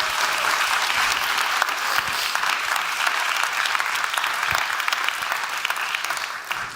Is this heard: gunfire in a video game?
no